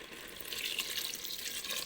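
Water poured into a paella pan for an express paella, a steady splashing pour with broad hiss that swells slightly and continues alone without talk.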